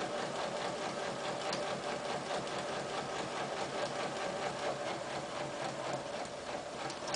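Sewing machine stitching a dress neckline facing, running steadily at a fast, even rhythm with continuous mechanical whirring and ticking throughout, close up and alone with no talk.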